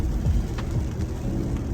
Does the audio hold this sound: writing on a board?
no